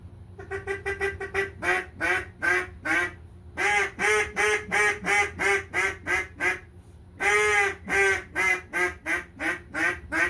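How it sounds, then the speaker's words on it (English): A handmade Louisiana cane duck call is blown softly in a long run of short, evenly spaced quacks, grouped into rhythmic sequences with brief pauses, close and clear with no talking. "That's a soft call."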